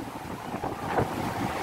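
Hurricane Iota drives strong wind across the microphone over rough sea in San Andrés, a loud continuous roar and rush of wind and surf with gusty swells throughout, no voices.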